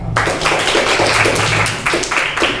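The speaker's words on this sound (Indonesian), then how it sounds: "Oke, Rehan, tepuk tangan buat Rehan." A class of eighth-grade students in an Islamic studies lesson applauds a classmate after his presentation, a steady wash of many hands clapping close by for a few seconds, swelling in bursts.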